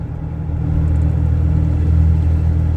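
A car with a manual clutch and factory cruise control resumes speed, its engine giving a steady, close low rumble that swells slightly over a few seconds, with no talking.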